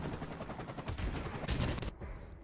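An M16A4 assault rifle in Modern Warfare Remastered fires in rapid bursts, a close, loud string of sharp shots that ends abruptly into a quieter tail.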